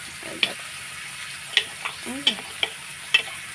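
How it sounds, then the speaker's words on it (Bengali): Pieces of raw banana and potato frying in a pan in a home kitchen, a soft steady sizzle broken by several sharp taps and scrapes of a spatula stirring. "কাঁচকলা আলুটা ভাজা ভাজা হয়ে গেছে।"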